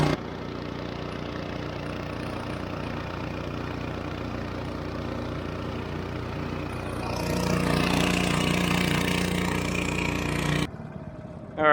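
A $300 eBay outboard motor runs steadily on an anchored fishing boat, a continuous close engine drone that swells louder partway through before cutting off near the end.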